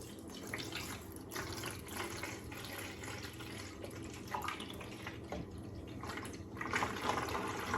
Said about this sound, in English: so I'll put 5 mLs of water